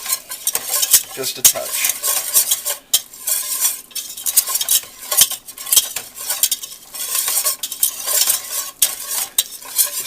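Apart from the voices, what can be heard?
stirring a blonde roux cooking in pan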